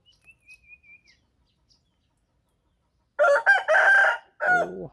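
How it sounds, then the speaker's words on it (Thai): A six-month-old rooster crows loudly nearby, one long drawn-out call after a stretch of near silence broken by faint thin chirps. "ไก่หกเดือนนะครับ"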